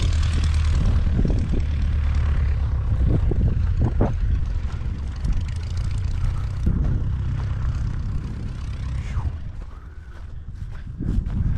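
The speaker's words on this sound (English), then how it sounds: "It's the Australian's glider." A motor glider's propeller engine drones loudly and steadily throughout, close by, with a broad rumbling roar that swells and dips slightly near the end.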